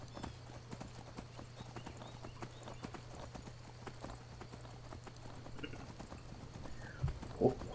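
Rapid clip-clop of hooves from the horse Shadowmere galloping in Skyrim, a steady faint beat running throughout, with a louder thump and stir near the end.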